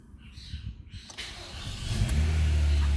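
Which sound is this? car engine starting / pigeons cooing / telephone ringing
car engine starting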